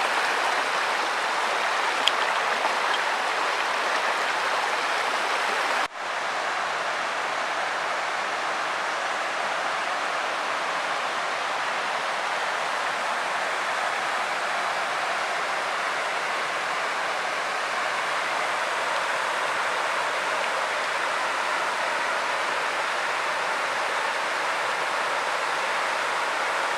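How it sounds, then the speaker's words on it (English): Right fork of Red Creek flowing just above the forks in Dolly Sods in spring, a steady broadband rush of water close by, constant and unbroken for the whole stretch. "This is the right fork of Red Creek, just above the forks."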